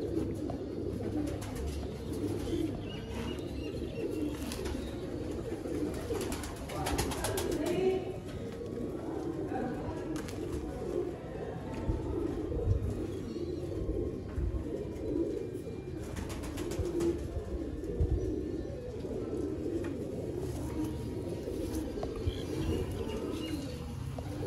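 Large breeder pigeons, a Sialkoti fancy breed, coo in low, rolling repeated calls close by, ongoing throughout with shuffling and faint background noise.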